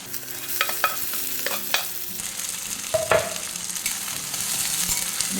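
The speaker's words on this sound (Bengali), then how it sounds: "এবারে আমি দিয়ে দেবো পেঁয়াজটা দিয়ে দেবো কাঁচা লঙ্কাটাও দিয়ে দেবো" Onion and green chillies hit hot melted sugar and oil in a pan, with sharp clacks of a utensil against the pan over a soft, steady sizzle, close and without speech.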